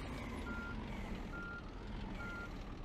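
A truck in the On The Road truck simulator game sounds its reversing alarm, three evenly spaced beeps over a low, steady engine rumble, with no talking.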